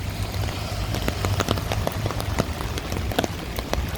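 Rain falling on pavement while walking through downtown Chicago, a steady patter with sharp close drips and splashes over a low constant hiss, no talk.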